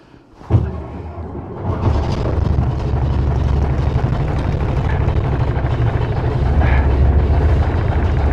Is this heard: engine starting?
yes